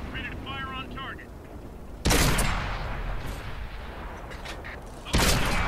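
In the console version of World of Tanks, a tank gun fires two loud, sharp booms a few seconds apart, each decaying into rumble, with a radio-style voice speaking just before the first shot.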